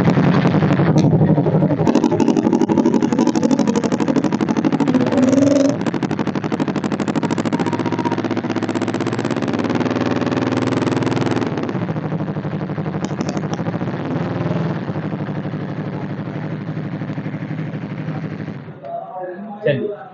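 A 2024 Yamaha MT-03 motorcycle engine idles and revs close by, a loud, steady rapid-firing exhaust rumble that holds for most of twenty seconds, then cuts off near the end.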